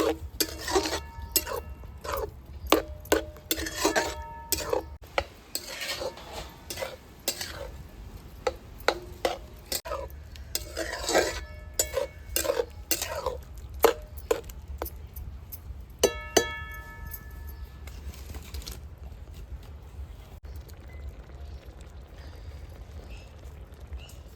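Milk simmering and being stirred in a pan for lauki halwa (bottle gourd pudding), with repeated soft scraping and clinking strokes of a spoon against the pan over a steady low bubbling, no talk.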